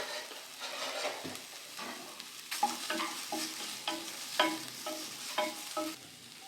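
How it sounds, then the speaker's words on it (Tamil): Green chillies and asafoetida sauté in a pan for poori masal, a soft sizzle with repeated scraping and stirring strokes from a spatula, close and quiet without talk. "ஸோ இதையும் ஒரு அரை நிமிஷம் வதக்குனா போதும்"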